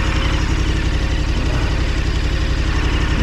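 A 2022-24 KTM 1290 Super Adventure R motorcycle engine idles close by, a steady, loud, even rumble with a fast pulsing throb that holds without change throughout.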